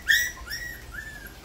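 Newborn puppies let out faint, high whimpering squeaks, three short rising cries in quick succession close by.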